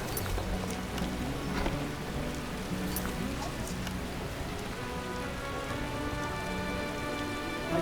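Steady rain pours across a scene in The Witcher 1, a dense continuous patter of drops on surfaces, with faint game sounds mixed in and no clear speech.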